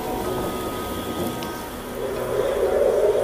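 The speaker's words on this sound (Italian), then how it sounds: "Ci bagniamo con la pioggia." Steady rainfall hisses continuously outdoors, with a low rumble of distant thunder underneath and the downpour swelling slightly louder toward the end; no voices.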